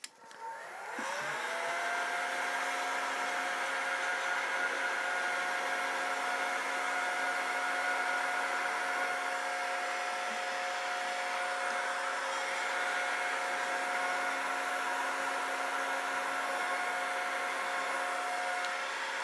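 A hair dryer switches on and blows steadily with a constant whirring hum and airy rush, close by, for a long stretch with no speech, while heating an edge-banding strip onto a wooden panel.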